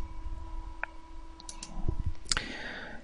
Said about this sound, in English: we'd like to play the click sound